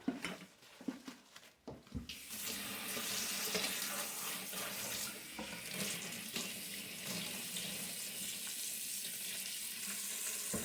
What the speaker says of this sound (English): I'm going to take this pot roast and I'm going to rinse it off